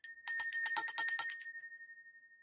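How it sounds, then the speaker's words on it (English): A small metal bell rings in a quick run of about ten bright, close strikes, each chime clear and ringing out, then the tone fades away over the final second. "I have a little metal bell I can ring too."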